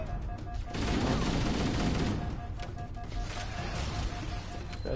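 Sustained automatic weapon fire in Halo Anniversary, a dense, loud wash of rapid shots that surges and then tapers into scattered bursts amid battle noise.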